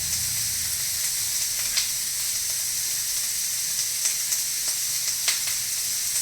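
Eight cloves of thick garlic and an inch of ginger fry in a pan for kadai paneer gravy, an even close sizzle with faint stirring ticks scattered through it.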